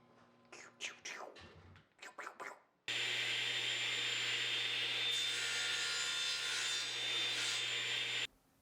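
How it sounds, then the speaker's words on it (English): After a few seconds of scattered handling noises, a long, loud, continuous scraping rasp of a chisel shaping wood for a Green Lantern cosplay ring runs steadily for about five seconds, then stops abruptly. "I have to do a little bit of shaping with a chisel"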